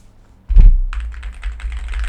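Typing on an Aula Hero 84 HE magnetic keyboard, a loud thump as the mic is shifted then a steady run of clacky keystrokes, close and alone.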